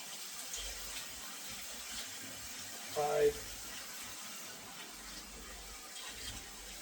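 Tap water running into a cooking pot for chicken rice, a faint steady trickle and splash with a brief louder gush midway, quiet and close.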